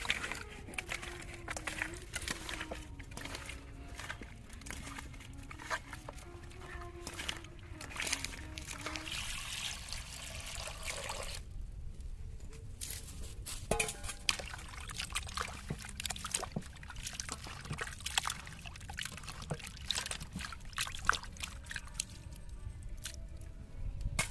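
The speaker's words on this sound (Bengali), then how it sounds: "মাছটা এবার আমি ধুয়ে নেব" A large fresh river boal fish, about 1.5 kg, being washed with water by hand, with continuous close splashing, trickling and wet squishing.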